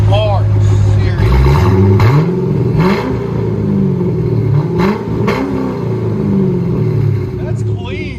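A Chevy Corvette with a 6.0L LS V8 and CARVEN R-Series exhaust revs hard and close by, several rising and falling blips of a deep burbling growl, with people talking over it.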